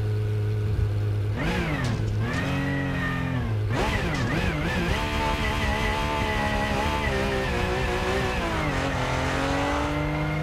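A car engine in the Rennsport racing video game starts and revs, its pitch rising and falling in swells before settling into a steady, loud drone as the car drives off, with no talk.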